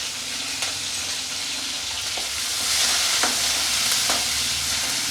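Tomato and curry leaves sauté in a pan for a gravy, producing a constant hissing sizzle with a few sharp stirring scrapes standing out above it.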